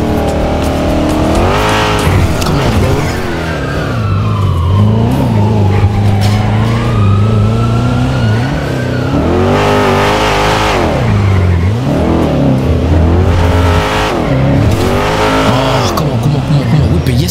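A car in the video game GTA 5 races recklessly with its siren wailing in rising and falling sweeps over a loud, revving engine drone, while voices talk over it throughout.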